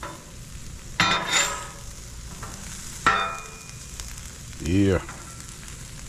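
Red snapper sizzles on a Blackstone griddle with a steady low hiss, broken by a few sharp scraping clatters from a spatula; a brief voice speaks once near the end.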